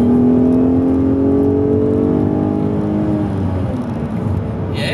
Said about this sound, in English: when you put it in the sport mode like it is, you touch the like gas and it just wants to move